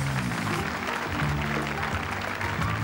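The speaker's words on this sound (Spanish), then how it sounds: "ustedes fuerte el aplauso para Martita." Audience applause at a live comedy concert, a steady moderate wash of clapping from the crowd, fairly faint and continuous with no talk over it.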